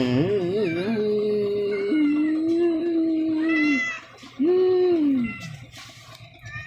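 A hungry cat meows insistently, long wavering calls rising and falling in a close, loud sequence with a short pause before a final drawn-out cry.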